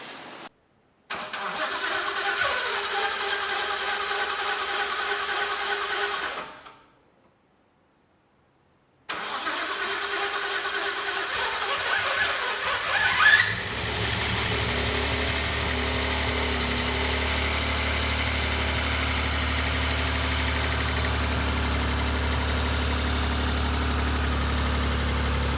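A Nissan 300ZX fitted with a turbocharged RB30 engine, with a leaking V-band clamp on the rear turbo, cranks and stalls, then cranks again and catches, settling into a loud, steady, rough idle up close.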